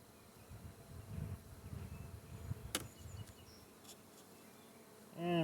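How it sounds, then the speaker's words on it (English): Honey bees buzz steadily as a swarming mass in and around a hive, a close, continuous drone with a few brief knocks and a louder burst near the end. "So now I can just shake the rest of these bees out."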